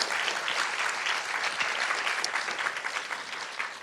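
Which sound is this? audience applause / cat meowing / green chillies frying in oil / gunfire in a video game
audience applause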